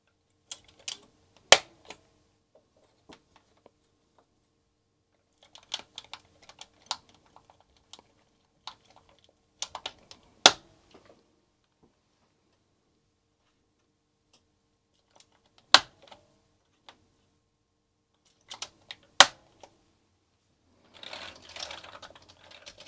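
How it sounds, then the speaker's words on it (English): Springs and keycaps being fitted back onto a Commodore 64 keyboard: sparse, sharp plastic clicks and snaps in irregular bursts with quiet gaps, ending in a short stretch of soft rustling handling. "Just need to place all the springs and the keycaps back onto it."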